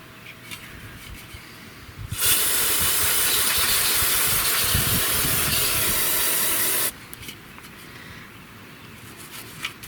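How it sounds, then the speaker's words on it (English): Brake cleaner sprays onto used OEM calipers in one loud, close, continuous hiss lasting about four and a half seconds, starting and stopping sharply against quiet garage background. "The old brake clean."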